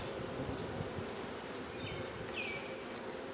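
Honey bees drone in a dense, steady buzz around an opened hive during an inspection, close and continuous, with a few individual bees whining past nearby.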